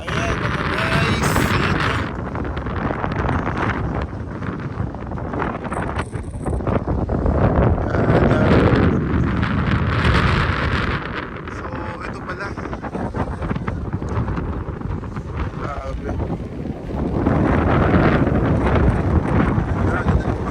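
Strong, cold wind at a hilltop car-camping area in Malico, San Nicolas, Pangasinan buffets the microphone in a steady roaring rush, swelling and easing in gusts throughout, with a voice faintly underneath.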